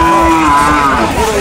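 Cattle lowing at the Banani livestock market in Bogura, a long drawn-out moo with clear rising and falling tones that fills most of the moment, close and loud over a low market murmur.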